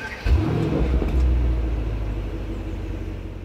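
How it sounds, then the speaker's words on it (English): A Mercedes-AMG GT63S V8 starts up in comfort mode: a quick starter catch and a bark as the engine fires, then it settles into a muted, steady low idle rumble, close by with no talking. "let's see what the car sounds like if you start it up just in comfort as well"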